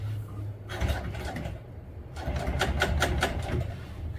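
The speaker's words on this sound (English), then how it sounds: "that's where we're going to start sewing" Sewing machine stitching a French seam on vinyl truck seat upholstery, a quiet low hum with faint rapid needle ticking that picks up and runs steadily after a brief pause.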